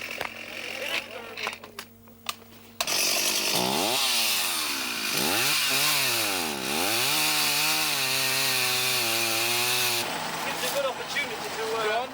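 A loud chainsaw roars nearby, engine pitch rising and dipping as it cuts through wood in the Sulawesi mountains during the 1988 Camel Trophy, after a brief stretch of clattering and knocking.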